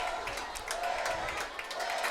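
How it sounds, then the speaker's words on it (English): Spectators at a high school football game between McFarland and Edgerton chant the name Larry, a rhythmic, pulsing crowd chant heard from a distance with some clapping mixed in, fairly faint throughout. "Sounds like the crowd's chanting Larry"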